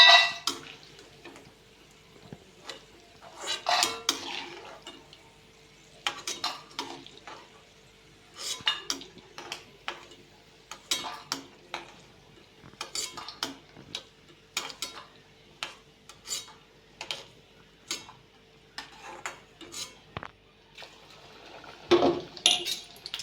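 Fried peanuts being lifted out of a pan with a metal spoon after low-heat frying in oil, a series of sharp scraping and clinking strokes against the pan in irregular bursts, with quiet gaps and a faint background hum, no talk.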